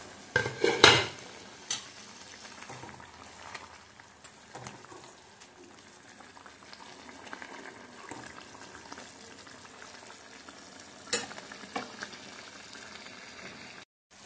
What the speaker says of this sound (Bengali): এটা ফুটছে, এবার দিয়ে দেবো মাছ।